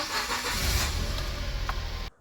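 A Mitsubishi Mirage G4 with a 1.0 engine cranks and catches close by, running briefly at a steady hum before cutting off abruptly into silence.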